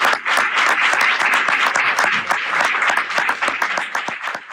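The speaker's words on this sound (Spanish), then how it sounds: "Un aplauso, ¿no?" Audience at a manga drawing masterclass in Barcelona bursts into loud applause, dense steady clapping that holds for several seconds before thinning slightly at the end.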